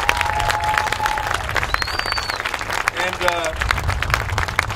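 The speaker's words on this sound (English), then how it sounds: "I hope that y'all can give her a round of applause for everything that she's done" Sustained crowd applause at a kickoff event, loud and continuous clapping with a few whoops and voices mixed in from the crowd.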